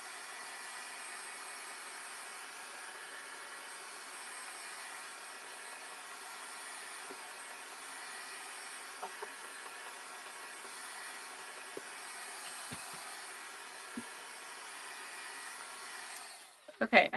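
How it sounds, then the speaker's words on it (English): A heat gun drying a craft project runs as a steady, even whooshing blower hum for many seconds, with a few small clicks and a clatter as it stops at the end. "I unplugged my heat gun and I forgot to plug back in. So let's just dry this really fast."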